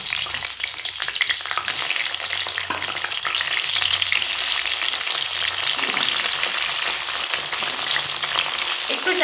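Salted pointed gourd (potol) slices frying in refined oil, pressed down as they cook: a loud, steady, dense sizzle with crackling spatter running throughout, no voices.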